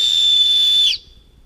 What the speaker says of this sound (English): I'm about to try the whistle out.